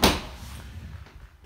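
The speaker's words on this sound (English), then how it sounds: "You have your twin opening rear doors." A single solid thump as the rear door of a 2014 Ford Transit Custom 2.2 van shuts, close and sharp at the start, followed by faint rustling.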